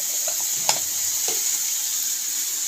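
A spoon stirs food in a hot pan over a constant sizzle of frying, with a couple of distinct scrapes and clicks against the pan, close and alone.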